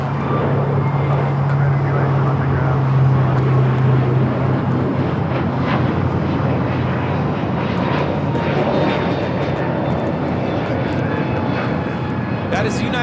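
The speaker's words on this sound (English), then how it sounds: "1729 taking off to Denver, Colorado on the A321neo" A United Airlines A321neo takes off at LAX bound for Denver, its engines roaring loud and steady with a broad rumbling wash that slowly shifts as the jet climbs away, with no speech over it.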